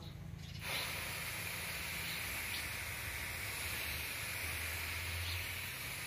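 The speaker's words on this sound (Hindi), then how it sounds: "ऐसे करके अपने को अच्छा से स्प्रे करना है" Steady close hissing spray from a bottle misting fungicide onto a rose plant, running continuously after a brief quiet start, with no talk over it.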